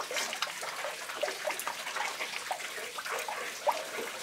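Water poured over a bonsai's soil to soak it, a steady splashing and trickling stream lasting throughout with small irregular drips and gurgles, fairly close and alone.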